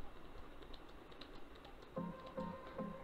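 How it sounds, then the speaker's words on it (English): Number keys tapped on a computer keyboard while entering data into an Excel spreadsheet, three short clusters of soft clicks near the end over a quiet room hum. "So here randomly I type some numbers"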